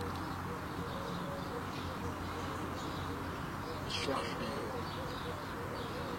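Pigeons or doves coo softly beside an artificial lake in Tirana, low and fairly distant under someone talking almost throughout, with a brief brighter chirp near the middle.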